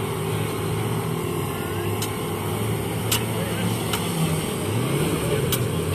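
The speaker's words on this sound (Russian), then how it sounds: "а штурман решил погазовать" An off-road trophy-raid vehicle's engine drones and revs on a blocked forest track, a loud continuous rumble with shifting pitch, broken by a few sharp metallic clicks.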